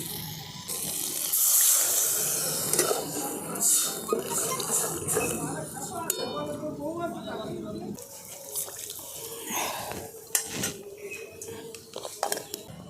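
Water is poured into a pan of spiced potatoes cooking in a home kitchen, with a close splashing run that fades into soft clinks of utensils and cookware.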